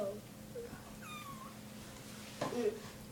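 A kitten gives a few short, faint meows indoors, one thin rising cry standing out over quiet room noise, followed by a brief bump.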